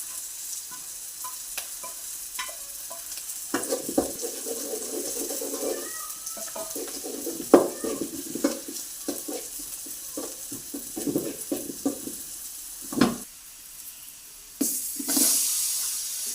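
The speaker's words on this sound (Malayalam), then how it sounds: "സവോള ചേർക്കുന്നു പൊടികളൊക്കെ ചേർത്ത് കൊടുക്കാട്ടോ" Onions and spice powders fry in a pan for a homestyle Kerala mushroom curry: a steady close sizzle runs throughout, broken by repeated scraping stirs and sharp utensil clatters, with no talk.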